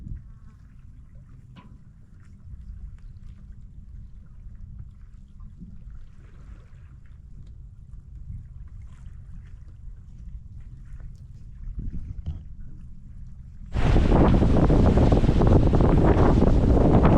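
A sailboat moves under sail along the Maine coast in summer. Low wind rumble and water wash continue steadily, then a loud broadband roar of wind on the microphone takes over near the end.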